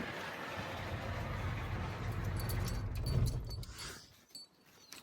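7.3 IDI diesel truck engine idling with a low rumble, then shut off and winding down to near silence, followed by a few faint jingles and clicks like keys.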